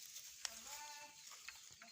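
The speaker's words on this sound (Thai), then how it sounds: "นี่นะครับแพะนะครับ" Goat on a small Thai farm bleating, with a short wavering call standing out over a steady outdoor background of chirping birds or insects, moderately near.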